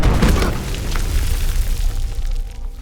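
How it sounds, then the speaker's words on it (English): Bomb explosion sound effect from a terrorist attack scene in the Iron Man film, a loud, full booming blast with a rumbling, crackling decay lasting a few seconds. "terrorists launch an attack. There, Tony is severely injured by a bomb manufactured by his own company."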